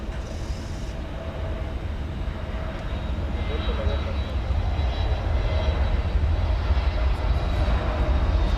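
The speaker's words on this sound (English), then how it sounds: "Got another Frontier coming in from Santa Ana, California, with Sky the Blue Jay on the tail." A Frontier Airlines jet arrives at DFW Airport at night, its engine rumble swelling gradually from distant to louder, with a person talking over it.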